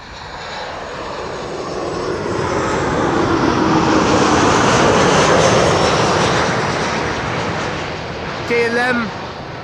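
A Boeing 747-8 freighter landing at Schiphol on arrival from Miami, its loud engine roar swelling and fading as it passes, with a brief voice near the end.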